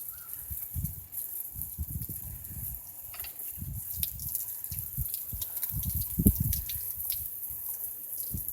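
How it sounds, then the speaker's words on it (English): Water from a temporary off-grid outdoor shower at a homestead, running and splashing in uneven bursts as it hits a person rinsing their hair, close and fairly soft, without talking. "we're showing you how our outdoor shower works."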